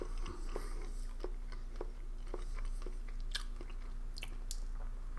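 Chewing a crunchy rice-crisp style bar from an Estonian 24-hour field ration, with repeated sharp crunches at an uneven pace over a steady low hum, close to the microphone and without talk.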